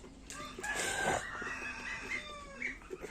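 Young male turkeys, around 45 to 60 days old, are kept on a farm with broiler chicks and geese. They give a run of shrill, wavering gobbles and chirping calls, close by, overlapping for several seconds.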